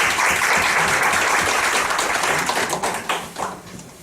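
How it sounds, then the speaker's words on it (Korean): Applause from a lecture audience at a Korean university teaching workshop, dense clapping that breaks into scattered, separate claps and dies away toward the end. "박수 한번 주시죠"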